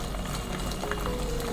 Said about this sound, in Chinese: 先把萝卜干放进来炸香